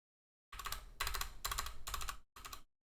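Fingers type quickly on a computer keyboard in several steady bursts of close, clicking keystrokes with short pauses, and no one speaks.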